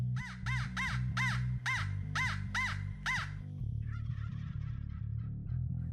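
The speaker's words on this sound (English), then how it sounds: "we had a turkey gobble back to our crow call right away" A wild turkey gobbles in a South Carolina hunting area, a rapid string of loud, rattling gobbles heard close, followed by a burst of bird calling against steady low background noise.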